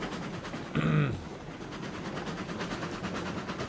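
A train runs on rails in the RailRoads Online video game, giving a quiet, steady rumble with faint rhythmic clatter and a brief louder burst near the start.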